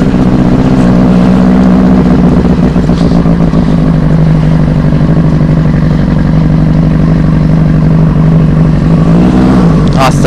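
A Benelli 600i superbike with an SC Project exhaust runs its engine very loud and close, a deep, steady rumbling idle with a slight rise near the end.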